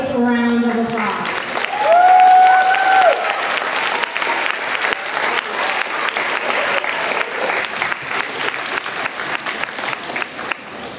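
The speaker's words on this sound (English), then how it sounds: "let's give them a big round of applause" Students and staff at a school welcome assembly give new students and teachers a big, sustained round of applause, a dense continuous clapping from a large crowd, with a few cheers and whoops rising over it early on.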